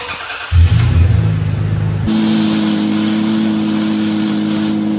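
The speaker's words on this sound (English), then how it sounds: "I'm gonna get in, start the truck up, I'm gonna turn it full crank," A Toyota Tacoma pickup engine cranks and catches, then settles into a steady idle with a strained whine as the steering is turned toward full lock, heard close and alone.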